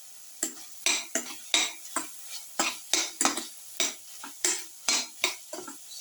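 Winter melon and potato are stirred in a pan with cumin, chili powder and salt, giving a close, rhythmic series of about fifteen sharp utensil scrapes and clinks over a faint sizzle.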